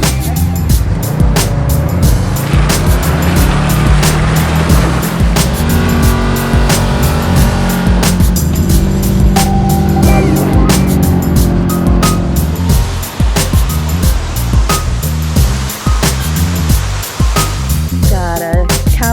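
A Kawasaki Teryx 4 Blackout Edition side-by-side runs its engine with a loud, continuous rumble and shifting revs on a frozen snowy trail ride in Arkansas. Scattered clicks and bumps sound throughout and no one talks.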